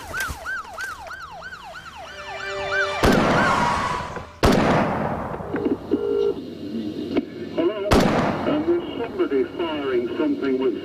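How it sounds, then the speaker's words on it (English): Automatic rifle fire rings out as several sharp, loud bursts over a dramatised scene, mixed with a wailing siren-like tone, radio chatter and talk. "Something which sounds like an automatic rifle."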